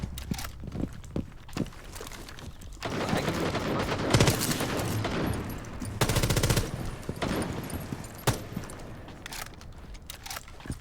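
Rapid gunfire in Rainbow Six Siege, in short automatic bursts and sharp single shots at moderate volume, with two dense sustained volleys in the middle and lighter footstep-like thuds between them.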